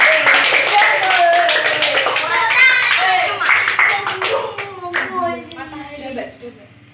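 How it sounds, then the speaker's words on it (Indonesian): Primary school children in a first-grade Indonesian classroom clap their hands together, a loud, dense round of clapping that thins out toward the end while kids' voices carry over it. "Beri tepuk tangan."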